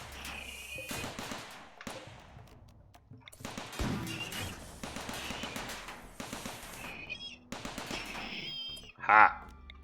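Rapid bursts of turret gunfire in the RimWorld colony game, several rattling volleys across the span with a louder sharp hit near the end, mixed with game sounds and some talk.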